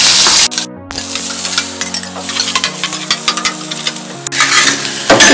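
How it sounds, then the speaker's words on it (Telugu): Chopped onions fry loudly in hot oil with cumin and mustard seeds for an okra dahi curry, a bright sizzle broken by scraping, clinking stirs in the pan. "ఆనియన్ వేసుకొని బాగా ఫ్రై చేయాలి"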